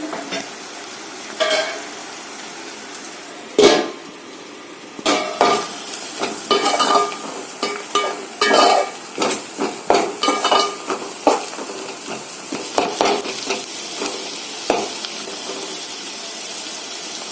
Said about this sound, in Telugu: ఇప్పుడు దీన్ని బాగా డీప్ ఫ్రై అయ్యే వరకు ఇలా చూసుకోవాలి.